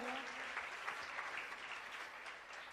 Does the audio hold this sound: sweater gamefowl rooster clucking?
no